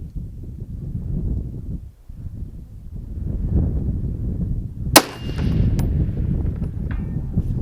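A single sharp .308 rifle report cracks out over wind noise and low rumble, followed by a faint, thin ring as the bullet strikes a steel target at distance.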